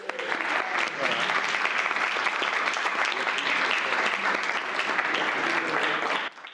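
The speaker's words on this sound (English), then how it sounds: "Can we have a round of applause for these guys?" Audience applause for the speakers at a talk on translation in the age of AI, dense sustained clapping from a crowd filling the room for about six seconds before stopping abruptly.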